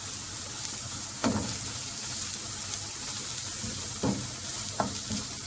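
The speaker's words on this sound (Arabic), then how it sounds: "هفضل ايدي بقى باستمرار كده في التقليب لحد ما تدبل" Greens for a taro dish stirred continuously in a pot, a steady sizzling hiss with soft scraping strokes recurring every second or so, close and moderately loud, no voices.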